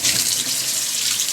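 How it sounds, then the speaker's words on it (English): Water gushes steadily from a newly installed Moen Georgene kitchen sink faucet, a close, even hiss of flow into the basin. "I'm going to let my wife do the honor of turning on the faucet"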